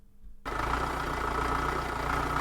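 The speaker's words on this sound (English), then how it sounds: "So what we need is a bit of movement from this tractor" Tractor engine from a sound effect library, a loud, dense rumbling drone that kicks in abruptly after near silence and runs steadily on, with no talk.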